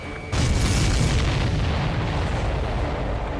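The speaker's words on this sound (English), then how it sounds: "Did you see that explosion?" A loud, heavy explosion boom from the Ace Combat 7 flight combat game bursts in after a brief quiet lead-in, then a dense rumbling roar that slowly decays over a few seconds, with no talk.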